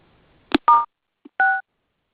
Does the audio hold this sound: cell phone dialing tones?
yes